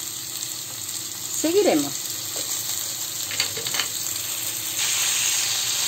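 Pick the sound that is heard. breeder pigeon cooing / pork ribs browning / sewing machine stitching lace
pork ribs browning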